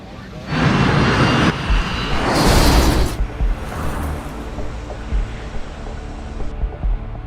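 An MD-87 airliner speeds down the runway at Linate Airport at about 260 km/h, a loud broadband jet roar that swells for a few seconds and then fades into a lower rumble.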